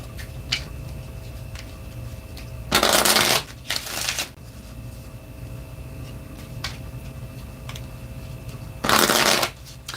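Lenormand oracle cards are shuffled in two brisk riffling bursts, each lasting about a second, close to the listener, with faint ticks and light handling noises between them.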